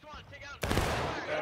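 Musket and artillery fire crackle in a Civil War strategy game, with a sudden burst of rapid shots after a brief voice, then a dense, ongoing volley.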